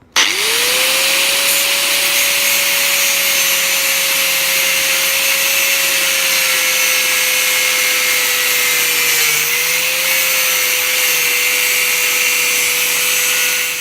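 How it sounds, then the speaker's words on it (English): An angle grinder cuts along a scored line while making a fire surround, a loud, steady, close whine that holds one pitch for the whole stretch with a slight dip partway through. "we'll cut it with the angle grinder along the line that we've scored"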